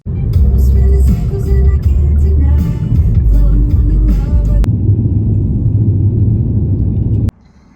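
A car cruising along a desert road through Death Valley at sunrise gives a loud, steady low rumble of engine and tyre noise up close, with two abrupt breaks in the sound and no voices.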